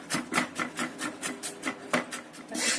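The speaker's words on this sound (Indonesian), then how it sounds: "Kemudian kita cincang halus juga, sama seperti jahenya tadi ya" Garlic cloves are finely chopped with a knife on a cutting board, a quick, even series of crisp knife taps, close and fairly loud, with no voices.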